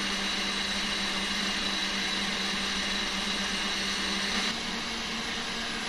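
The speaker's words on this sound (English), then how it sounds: "Now we're going to mix this on high speed until it's formed stiff peaks." Electric mixer whipping a Grand Marnier soufflé mixture with sugar toward stiff peaks, a continuous loud buzzing motor hum with a steady tone, a slight shift near the end, alone without talk.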